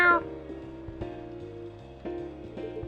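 In the video game Coffee Talk, a cat gives a short meow at the start, followed by soft, gentle background music with plucked notes repeating at a relaxed pace.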